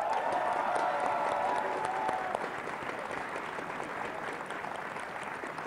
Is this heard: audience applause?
yes